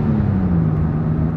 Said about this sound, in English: That's the fan belt squealing.